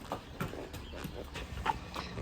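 A horse walks along, its hooves clip-clopping in a steady, fairly close rhythm of distinct beats with no talking.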